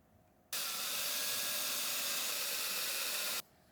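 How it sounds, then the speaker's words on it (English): Screws being driven into wood with a power tool while building a drawing board with steel reinforcement: one loud, steady, hissing motor burst of about three seconds, close by, with no talking. "I'll install some screws into these two squarish ones"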